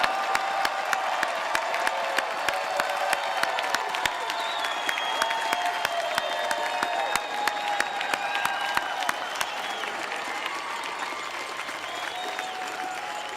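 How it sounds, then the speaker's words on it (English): Sustained applause fills a hall at the close of an MBA commencement ceremony, dense steady clapping from a large audience with scattered cheers and whoops mixed in, lasting over ten seconds without letting up. "Please join us in one final round of applause for the Jones School"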